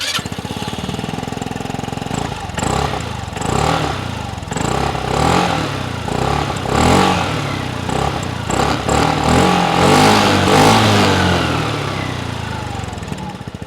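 A Royal Alloy GP150 MT scooter engine running close by, idling with a rough putter and then revving up and down in repeated surges.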